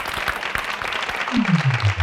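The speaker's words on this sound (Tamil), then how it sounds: "ஒரு அரங்கம் நிறைந்த கைத்தட்டலோடு" A full hall at a Tamil Thirukkural speaking contest for school and college students bursts into a brief wash of applause, loud and continuous, with a voice starting to sound just as it ends.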